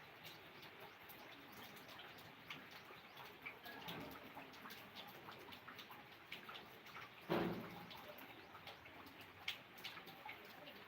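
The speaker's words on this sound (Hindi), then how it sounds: "बारिश हो रही है।" Rain falls steadily as a faint, continuous patter with scattered drips, and birds coo and chirp softly nearby.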